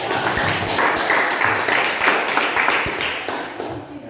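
A group in a classroom session applauds, with dense clapping throughout that fades slightly toward the end.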